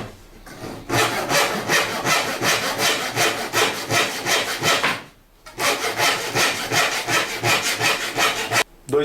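A hand saw cuts a thin wooden slat in half with steady rhythmic back-and-forth strokes, close and loud, pausing briefly midway before the sawing resumes and ends.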